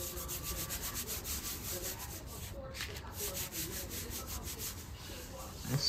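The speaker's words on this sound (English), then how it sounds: "Press down the glue, flip it over, rub it from the back." A glued paper house tag being rubbed from the back on a craft surface, a close, steady dry scrubbing with rapid repeated strokes.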